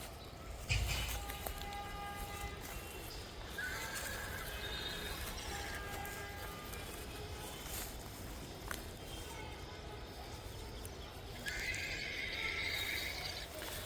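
A mare neighs on a horse farm, with several whinnies heard at moderate distance, including a rising call near the start and later drawn-out neighs, over a faint steady outdoor background.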